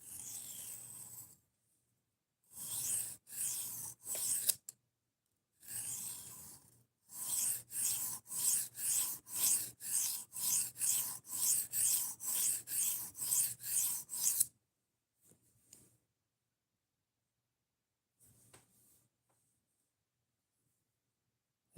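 A large Gerber knife blade sharpened by hand, with brisk rasping strokes on a stone: a few short passes, a pause, then a long run of regular, evenly spaced scrapes, followed by faint scattered touches.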